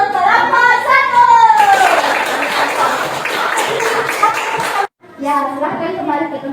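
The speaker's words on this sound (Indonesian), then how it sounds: "Oke, beri aplaus untuk kelompok 1." A classroom of children clapping for the first group, a burst of scattered applause and chatter between spoken teacher instructions, with a brief pause before talking resumes.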